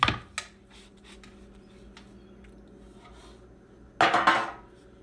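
Milk bread is knocked out of a metal baking pan: a sharp clatter at the start, a quiet stretch with faint knocks, then a louder rattling bang of the pan near the end.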